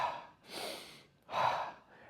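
A person imitates a breathwork breathing method with two strong, airy breaths, a sharp inhale then a forceful exhale, close and unaccompanied by speech.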